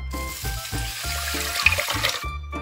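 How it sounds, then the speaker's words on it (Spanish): Water poured into a bowl for instant Provenzal soup mix, a steady splashing pour with a rising gurgle that lasts about two seconds before stopping abruptly. "paso siguiente es echar 3 cuartos de litro de agua o 3 tazas de agua"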